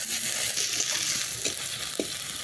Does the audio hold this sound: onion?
yes